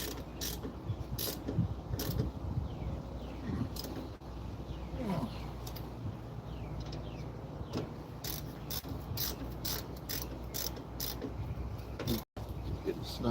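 Ratchet snugging down brake caliper bolts on a Kia Soul, making fast bursts of close, crisp ticking clicks in uneven runs over a low background hum.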